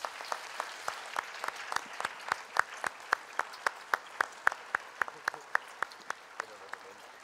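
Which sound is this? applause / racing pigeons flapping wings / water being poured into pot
applause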